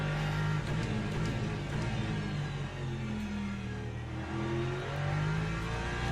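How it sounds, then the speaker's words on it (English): A race car engine in the Le Mans Ultimate racing sim holds a steady, loud drone throughout, with slight pitch shifts as it accelerates and shifts at the Paul Ricard circuit. "when you're trying to overtake a Lexus, oh god, the sound is so good"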